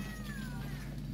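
A cat in Monster Hunter Portable 3rd lets out one drawn-out, slightly falling meow over a low, constant game hum.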